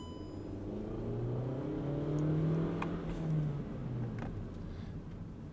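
The 1.4 TSI petrol engine of a Volkswagen Caddy Maxi van hums steadily from inside the cabin, a low, smooth drone that rises gently in pitch as it accelerates and then eases off.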